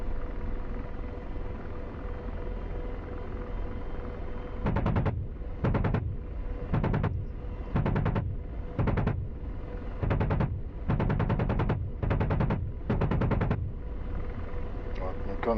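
An AH-64 Apache helicopter's gun fires in DCS, in about nine short, loud bursts spaced roughly a second apart. A steady rotor drone runs underneath throughout.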